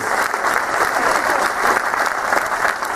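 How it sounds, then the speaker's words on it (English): Dense, steady applause from a cruise ship show audience cheering stage volunteers at a hypnotist performance, heard from far away, continuous and loud for the whole stretch. "Big round of applause, those wonderful volunteers."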